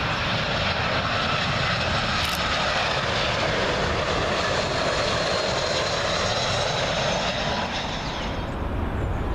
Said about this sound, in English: Another British Airways A320 now. This one in from Nice.